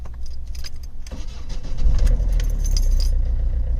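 Keys jingle in the ignition before a Ford Fiesta 1.4 TDCi diesel, which has a rev counter fault, cranks and fires up, settling into a loud, close, rumbling idle.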